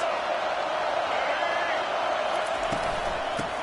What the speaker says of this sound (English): They challenge this crowd to bring the energy, and I'd say they're doing that.